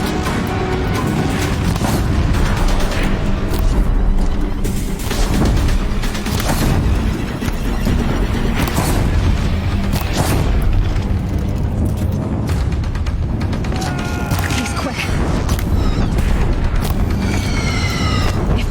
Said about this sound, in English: Deathbringers keep firing, this bridge will go.